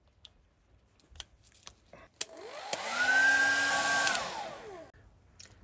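An 1800-watt hair dryer running off batteries switches on with a click, whirs loudly for a couple of seconds with a high whine, then cuts off.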